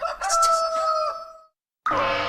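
A rooster lets out one loud, close crow that holds a drawn-out tone and then trails off, and after a short silence a second call begins.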